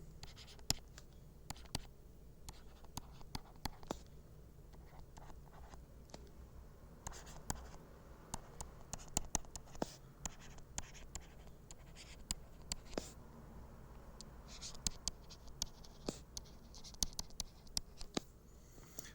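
Pen or marker scratching across a board as a diagram is drawn in a chemistry lecture, with sparse ticks and strokes in irregular spurts over a quiet room hum and no speech.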